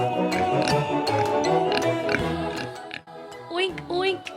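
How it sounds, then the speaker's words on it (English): A pig oinks in a children's animal-sounds recording, a string of close, loud grunting snorts heard alongside a speaking voice. "Can you oink like a pig?"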